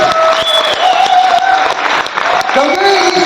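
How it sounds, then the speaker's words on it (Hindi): Loud, sustained applause from a crowd at an anniversary celebration, with music or a voice carrying over it, continuous and energetic throughout. "तालियां रुकनी नहीं चाहिए"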